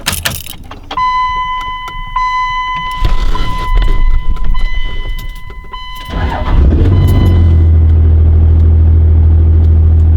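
A Cummins diesel truck engine cranks and starts up after a chime and faint clicks, settling into a loud, steady idle rumble.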